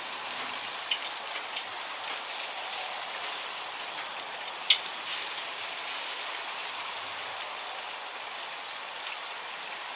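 Steady close hiss of a ribeye steak seasoned with Montreal steak seasoning sizzling with butter on a NexGrill Evolution grill, a continuous crackling sizzle with no speech.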